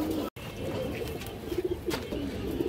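Pigeons kept for sale, including high flyers, coo softly in repeated low warbling phrases against a dense, noisy background hum, with a brief dropout near the start.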